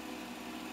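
A Bell & Howell 8mm film projector runs with a steady, fairly quiet mechanical whir and hum, continuous and even with no talking.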